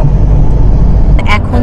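A taxi cruising along an expressway out of the city in Thailand, with a steady loud low road rumble and engine drone throughout, plus a brief higher rattle or squeak near the end.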